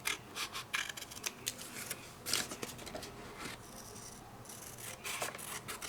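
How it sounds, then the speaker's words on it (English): Scissors trim paper for a 12x12 scrapbook page, heard as quiet, close snipping and rustling cuts in a quick irregular series, with no talking. "So I'm just gonna trim this off."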